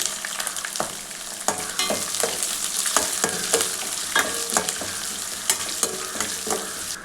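Finely chopped small shallots frying in hot oil with mustard seeds and lentils for a pumpkin stir-fry, a steady close sizzle broken by repeated sharp scraping stirs of a spatula.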